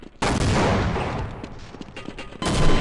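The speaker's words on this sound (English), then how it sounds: "Grenade!" A grenade explodes in Half-Life with a sudden loud blast, followed by a dense, sustained roar of gunfire and debris, then a second heavy burst near the end; no speech.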